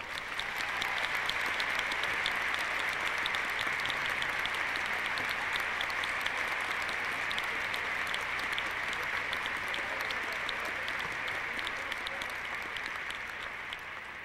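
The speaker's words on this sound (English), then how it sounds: "that you give them a big round of applause." A large arena crowd at a 1993 Skate America figure skating exhibition applauds in a steady, dense wash of clapping that lasts throughout, heard from a distance with no speech over it.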